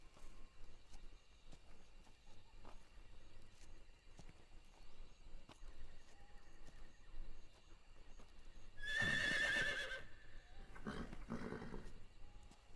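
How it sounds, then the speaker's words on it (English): A horse in the jungle of Metal Gear Solid Delta: Snake Eater lets out two loud, shrill neighs late on, the second shorter, over quiet ambient game background. "Un caballo."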